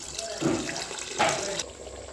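Tamarind water is poured into a pot of fish curry, a short soft wet gush that swells twice and then fades, fairly close and quiet.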